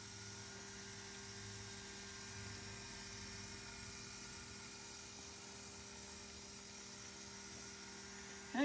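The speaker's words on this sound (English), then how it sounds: "the cup turners making all the noise are these spinet cup turners" A steady motor whir from a spinning epoxy cup turner runs unchanged and close for several seconds, with a faint tonal hum beneath and no talk.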